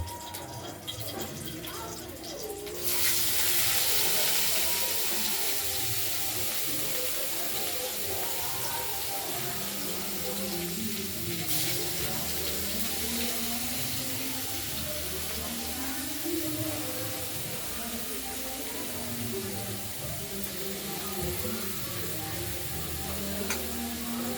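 Salted mashed radish and bharali squeezed by hand so the water drains off, with soft wet squelches and trickling drips repeating close by over a long stretch.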